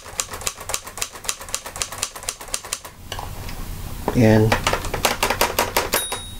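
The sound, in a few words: Hermes Rocket typewriter keys striking and bell ding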